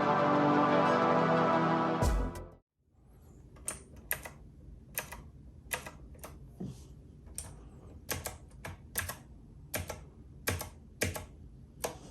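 FINEDAY Keyboard 3.0 retro mechanical keyboard being typed on: after a loud sustained sound cuts off, sharp, distinct clacking keystrokes follow at an uneven, unhurried pace, close and crisp against a quiet background.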